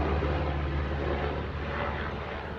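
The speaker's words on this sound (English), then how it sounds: "there is a helicopter flying in the sky" A helicopter flying overhead, heard as a loud, continuous engine and rotor roar with strong low-frequency drone, steady and fairly close throughout, with no speech over it.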